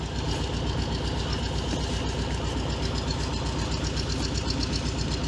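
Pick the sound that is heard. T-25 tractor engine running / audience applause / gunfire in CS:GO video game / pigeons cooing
T-25 tractor engine running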